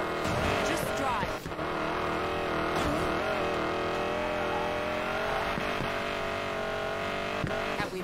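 Car engine drones steadily while driving in the video game Need for Speed Payback, with brief tire squeals and revving bursts mixed with music and speech throughout.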